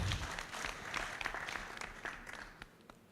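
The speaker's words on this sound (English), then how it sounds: "Can we give him a round of applause?" A conference audience at a cassava conference claps, a fairly faint, dense patter of applause fading out over a few seconds.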